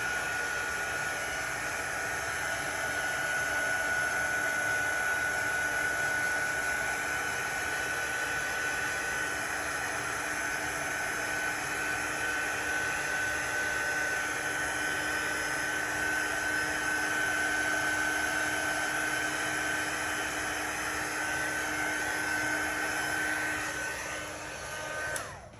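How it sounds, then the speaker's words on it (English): A handheld drying tool, like a hair dryer, blows over freshly brushed homemade gesso: a steady, close, continuous whirring roar holds for about 25 seconds, then cuts off at the end, with no talking. "tool to dry it real quick"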